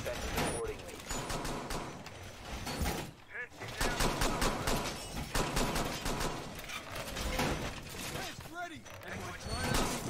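Rapid, loud gunfire from the Rainbow Six Siege video game, streamed on xCloud, with a shotgun in play. Dense bursts of shots run almost without pause through the whole stretch, with a brief dip partway, and a voice may be faintly present.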